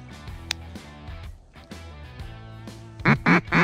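Ducks, including mallards, call during a winter hunt at a frozen ice hole on Cape Cod. Scattered calls and splashy sounds lead into three loud, close quacks in quick succession at the end.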